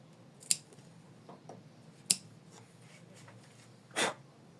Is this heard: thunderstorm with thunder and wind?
no